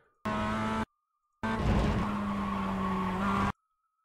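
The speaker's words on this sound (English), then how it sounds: "You can hear the car settle off the curb" Two bursts of Mazda MX-5 race car noise at Okayama circuit, broken by silence: a short engine whine, then a longer tire-scrubbing roar with rising engine pitch as the car settles off a curb, close and fairly loud.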